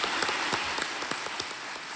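A studio audience on the KBC quiz show claps, a dense, steady patter of applause with a few sharper individual claps standing out.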